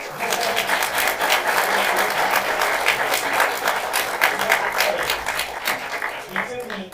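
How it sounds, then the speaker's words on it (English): A conference audience at a VR meetup in Manchester gives a sustained round of applause, dense overlapping clapping that stays loud and steady for several seconds before tapering off near the end. "let's have a round of applause"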